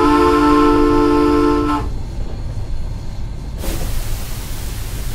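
A steam locomotive whistle in Train Simulator 2019 on a Cascadian steam run, Oriental Limited scenario, gives a loud, sustained multi-chime blast for nearly two seconds, then cuts off, leaving the steady rumble of the train running underneath.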